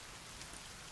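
Steady rainfall in the survival video game The Forest, a dense even hiss of drops hitting surfaces with faint low rumbling beneath, no voices.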